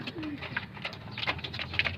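Zera Ferozpuri fancy pigeons give soft, low cooing calls against a steady rustle of background noise, a few faint coos rising at intervals without any talking.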